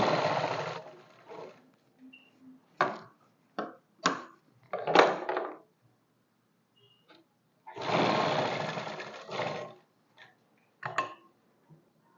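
A sewing machine stitches a skirt suit, running in several bursts: long steady whirring runs near the start and around the middle, with shorter stitching spurts and pauses in between, close and alone.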